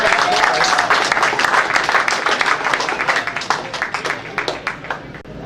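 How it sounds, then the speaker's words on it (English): Audience applause at a 2014 season awards ceremony, loud dense clapping at the start that thins into scattered individual claps as it trails off. "Big round of applause for Bill."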